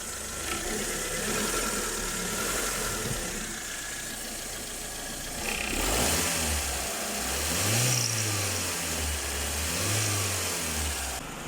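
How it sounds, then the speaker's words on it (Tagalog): A Mitsubishi Lancer engine runs at a smooth, low idle with a steady hum after a cold start, with a few brief rises in revs partway through. "ayan napakatahimik ng makina nito napakaganda nito nung nakuha namin napakapino ng andar"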